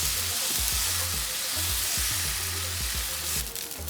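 Dosa cooking on a hot pan, a steady dense sizzle with faint rhythmic scraping underneath, close and constant, no voices.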